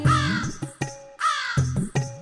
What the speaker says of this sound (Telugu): కాకి కాకి కడవల కాకి